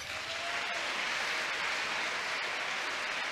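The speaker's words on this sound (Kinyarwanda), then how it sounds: "Nimukomere Imana amashyi." A church congregation applauds during a sermon, a continuous even patter of many clapping hands that holds steady throughout with no speech.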